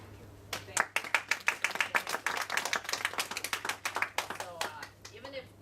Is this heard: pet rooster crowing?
no